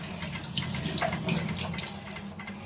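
Water runs steadily from a tap while something is washed and scrubbed at a basin, a close, continuous splashing with small irregular spatters.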